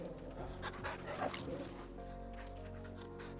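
The dog Torgal in Final Fantasy 16 lets out soft whimpers and panting over a steady musical game backdrop, fairly faint and brief.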